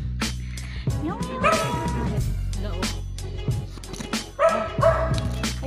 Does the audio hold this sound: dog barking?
yes